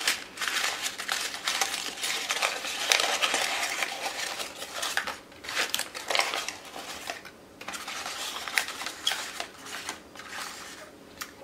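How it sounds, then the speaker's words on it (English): A sheet of paper crumpled up by hand during a classroom watershed activity, a dense run of crinkling and crackling that rises and falls in bursts for several seconds, close and fairly quiet, with no voices. "You're gonna take your piece of paper and you're going to crumple it up."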